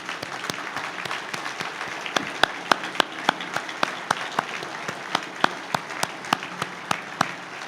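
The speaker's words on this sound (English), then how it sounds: "please stand and let us give you a round of applause" Applause at a Corvette Hall of Fame induction ceremony: steady, moderately sparse clapping from a seated crowd, with individual claps standing out, and little talk.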